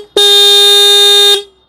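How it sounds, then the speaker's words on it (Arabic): Aftermarket car horn, the first unit of a two-piece set, sounds one loud, steady, close blast of a little over a second, then cuts off cleanly. "بس من حلاوه الكلاكس ده هجرب صوته في الفيديو ده"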